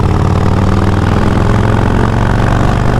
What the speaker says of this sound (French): j'ai une Harley là entre les mains